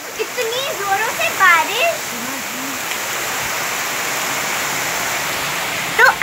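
Heavy rain pours down with a constant broadband hiss like rushing water, while a voice talks over it at the start before the downpour continues alone.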